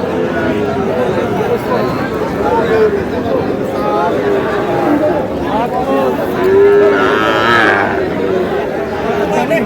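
Cattle, including Sahiwal bull calves, moo now and then amid constant crowd chatter and people talking at the busy outdoor Aftabganj livestock market.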